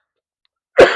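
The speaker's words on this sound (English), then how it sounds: "Sorry, I got a cough here." A single sharp cough breaks a moment of silence, close to the mic, during a talk on private credit in 401k funds.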